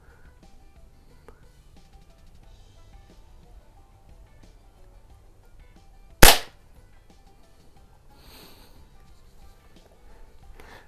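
A single sharp, loud crack of a Baikal IZH-46m air pistol shooting pellets at a cheese puff target, standing alone amid near silence with faint handling noise before and after.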